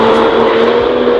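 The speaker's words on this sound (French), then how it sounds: "Voilà la petite Lexus LC500H." A 2017 Lexus LC 500h hybrid car running close by, a loud steady engine hum that holds for about a second before cutting off abruptly.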